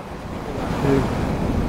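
A mountain river near Hoverla in the Carpathians rushes in a steady, broadband wash of flowing water, constant and moderately loud with no voices present.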